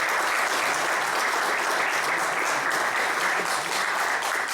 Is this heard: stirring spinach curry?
no